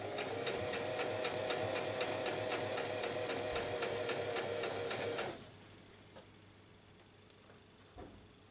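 A sewing machine stitches a chiffon neckline in a fast, even run of needle clatter for about five seconds, then stops, leaving a quiet room with one faint knock near the end.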